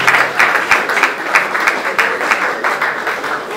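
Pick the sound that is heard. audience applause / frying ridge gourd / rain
audience applause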